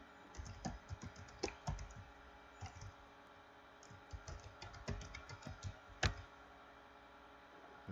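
Fingers typing a business name on a computer keyboard, quick bursts of close, light key clicks with short pauses between words and a sharper keystroke near the end.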